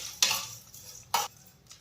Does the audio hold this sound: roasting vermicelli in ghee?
yes